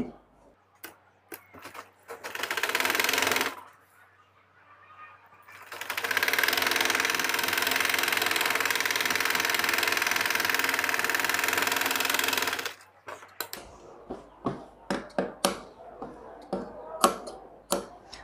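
A sewing machine stitches the back rise seam of a pair of trouser pajamas in two long steady runs of rapid mechanical chatter, separated by pauses filled with sharp clicks and handling taps.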